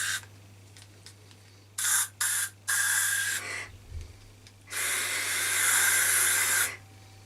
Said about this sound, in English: let's get some air freshener now and see if I can smell anything